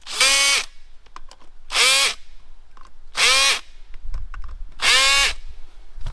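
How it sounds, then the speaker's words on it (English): A power tool whirs in four loud, near bursts, each about half a second long and spaced evenly apart, while tightening the clamp on a 1 1/2 inch dry line fitting, with quiet clatter heard between the bursts. "I'm just tightening down the clamp"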